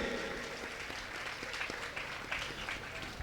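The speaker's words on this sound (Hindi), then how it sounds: "जोरदार तालियां बजाइए" A seated crowd at a memorial gathering keeps up a steady, moderately loud wash of applause for the full three seconds, with individual claps popping out of the even roar.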